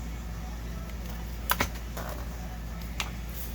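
A few sharp scissor snips through paper, spaced apart, over a steady low background hum.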